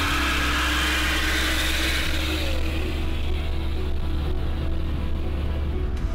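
A steady, loud engine roar rushes past on a motorway from sports cars, including a 680-horsepower Corvette ZR1, a GT-R, a Porsche 911 Turbo and an Audi S4, with continuous wind and road noise throughout.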